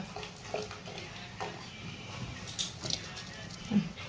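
Water splashes and patters steadily as boiled macaroni pasta is drained, with a few louder bursts of trickling and spattering near the end and no talking.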